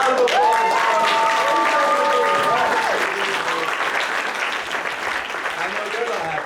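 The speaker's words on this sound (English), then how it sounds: "Round of applause." Lively audience applause and cheering at a live comedy game show, loud and sustained at first, then tapering off while a voice starts talking.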